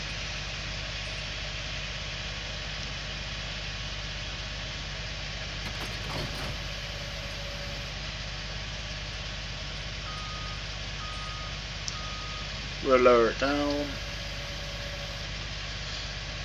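A tractor fitted with a header idles in a farming video game, a steady low engine drone running throughout, with a brief rising mechanical whine near the end and a voice speaking briefly.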